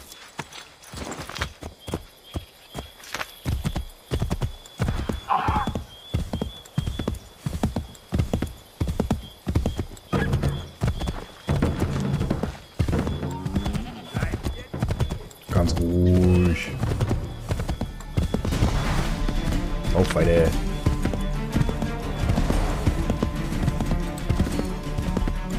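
Hoofbeats of a horse in Assassin's Creed 3, rhythmic clip-clop running through most of the stretch with a neigh partway through, mixed with game ambience and music toward the end.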